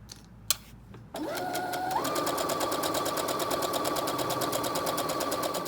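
A sewing machine stitching fabric for a duster starts after a couple of faint clicks and then runs steadily and loudly, close up, its rapid needle rhythm continuing without a break.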